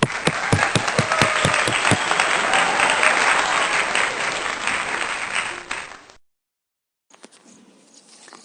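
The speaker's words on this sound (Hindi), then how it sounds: "तालियां" Applause from a church congregation during a Sunday worship service, a dense sustained clapping that stops abruptly after about six seconds, followed by a brief gap and faint room noise.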